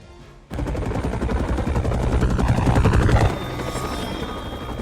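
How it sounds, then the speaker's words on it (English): Helicopters in the video game Midnight Suns thump loudly with a rapid, steady rotor beat, accompanied by bursts of gunfire and a rising whine before the rotor noise settles slightly. "Oh good, choppers."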